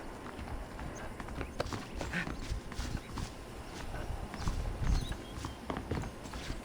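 Horse hooves clip-clop on the ground in the western video game Red Dead Redemption: Undead Nightmare, a brisk rhythmic stream of muffled thuds under a low rumbling game ambience, fairly close and moderately loud.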